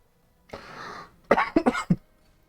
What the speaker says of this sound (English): I thought I'd spare you all those coughs as I inhale water instead of drinking it